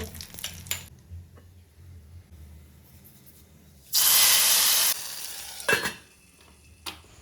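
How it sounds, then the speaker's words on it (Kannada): Mustard seeds and curry leaves tempered in hot oil hit a wild mango curry with one loud, sudden hissing burst that lasts about a second. Quieter stirring and clatter come before and after it. "ಹಾಗೆಯೇ ಸ್ವಲ್ಪ ಕರಿಬೇವನ್ನು ಹಾಕಿ ಫ್ರೈ ಮಾಡಿ ಇದನ್ನು ಮಾವಿನ ಹಣ್ಣಿನ ಉಪ್ಪು ಕರಿಗೆ ಹಾಕಿ"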